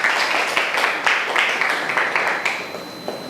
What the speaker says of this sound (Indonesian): Oke, tepuk tangannya dulu yuk.